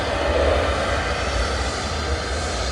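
An airplane roars on the runway at Manchester Airport, a loud, steady broadband engine rumble heard close and continuous with no talk over it.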